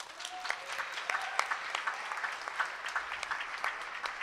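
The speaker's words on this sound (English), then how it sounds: "Can we get a round of applause for Ethan, please?" Audience at a New Year's Day marathon reading event gives a sustained round of applause, crisp individual claps blending into steady moderate clapping throughout.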